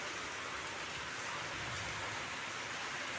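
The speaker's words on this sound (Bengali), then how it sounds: "বৃষ্টি চলে এসছে" Soft, even hiss of rain falling steadily, faint and continuous with no voices.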